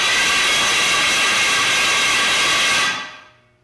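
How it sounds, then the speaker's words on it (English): A 472 car engine, with its leads disconnected so it will not fire, cranks over in a loud, steady whirring rush that cuts off and fades out near the end. "I don't have any of my leads hooked up because I don't want any ignition, and I'm just going to crank it"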